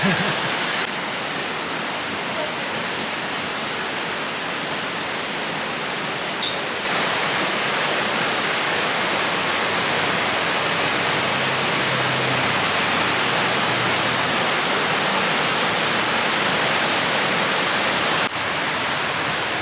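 A mountain stream flows beside a forest restaurant set high in the hills, a steady, loud broadband rush of water that fills the whole stretch without a break.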